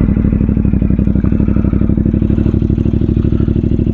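A CFMoto 450MT motorcycle with a 270-degree crank twin and VMAX aftermarket exhaust idling after start-up, a loud close, rapid, evenly pulsing low rumble that holds steady throughout.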